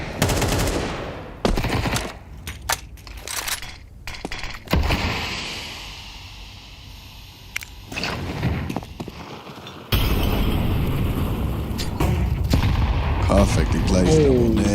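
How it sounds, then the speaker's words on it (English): Grenade blasts and gunfire crackle through a Counter-Strike pro league match, with bursts of shots and booms, loud and close, while a caster talks over the action. "Perfectly placed double nade."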